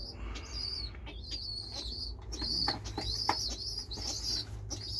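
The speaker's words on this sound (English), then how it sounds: "You big plump bird?" Pigeons in a loft coo and chirp continuously, several birds overlapping in soft, burbling calls with sharper chirps, close by against a low rumbling background.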